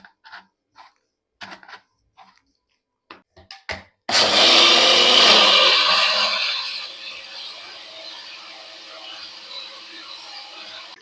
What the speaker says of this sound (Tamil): இப்போ இதை மூடிட்டு நல்லா பிளெண்ட் பண்ணிக்கலாம்.